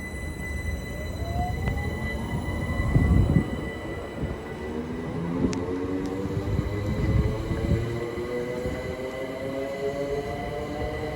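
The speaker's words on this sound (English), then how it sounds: "Now the pine is the 1728 South Eastern service to Slade Green." A Southeastern electric train to Slade Green moves through New Cross with a rumbling roll and rising motor whine, punctuated by a couple of heavier clunks over the rails, fairly close and with no voices.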